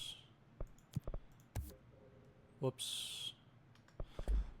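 Sharp, sparse computer mouse clicks sound close and isolated in a quiet room, some in quick pairs, while someone speaks briefly.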